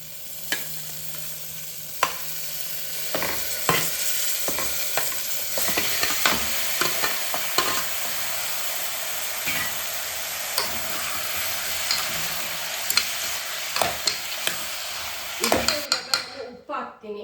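Mutton frying with onions in a pan, a steady sizzle running throughout beneath repeated scraping and clinking of a spoon stirring against the pan, close and fairly quiet.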